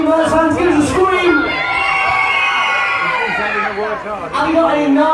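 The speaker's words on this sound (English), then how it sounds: "All you Ollie Merz fans, give us a scream" Live show audience screaming and cheering, a loud burst of high-pitched shrieks and whoops that swells, dips, then rises again, mixed with a voice calling out to the crowd.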